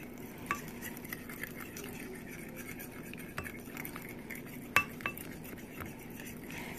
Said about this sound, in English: I'm guessing I'm needing to stir it.